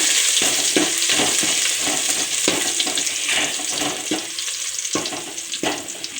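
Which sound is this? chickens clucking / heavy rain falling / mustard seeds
mustard seeds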